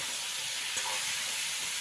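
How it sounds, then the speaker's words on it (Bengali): Winter vegetables (potato, eggplant, radish, pumpkin and flat beans) fry in oil in a pan, producing a soft, even sizzling hiss with a faint clink partway through. Moderately quiet and without talk. "তাই দেখো ভাজা ভাজাও হচ্ছে"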